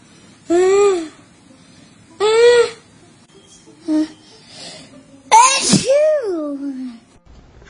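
A storyteller's voice imitates a loud sneeze: a few rising, breathy build-ups lead to one big, explosive sneeze with a squeaky trailing tail, close and alone.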